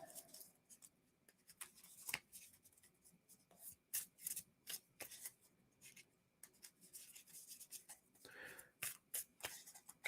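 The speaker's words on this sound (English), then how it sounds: "Shuffle up." Playing cards are shuffled in a series of quick riffles and brisk sliding rubs, close and soft, with short pauses in between.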